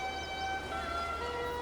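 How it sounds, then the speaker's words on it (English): A sustained trumpet tone holds steady pitches and rings out over Lake Königsee, echoing off steep glacier-carved cliffs in the Alps, with an even, continuous sound and no voices. "Trumpet sound to display the amazing echo that bounces off the glacial carved cliffs."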